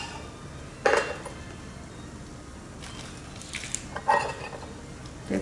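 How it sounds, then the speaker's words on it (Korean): Knife slicing green onion diagonally on a cutting board, two short, faint clusters of crisp chopping taps against a quiet kitchen background. "대파는 어슷썰기요"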